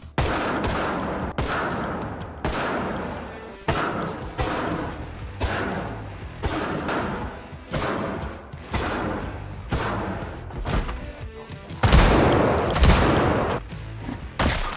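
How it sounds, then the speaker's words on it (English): Rapid, loud M14 rifle fire in the video game Project Zomboid during a horde night in a mall, volleys of overlapping shots continuing without pause, with dense impact and crash noise throughout. "And tonight, the weapon of choice, the M14, as our pistol ammo is not looking too great."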